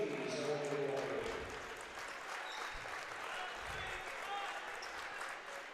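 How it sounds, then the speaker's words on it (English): Hometown fans at a girls high school basketball game between Perham and Breckenridge applaud steadily in a gym, a sustained crowd clapping with faint talk mixed in underneath. "get a nice round of applause from the hometown fans"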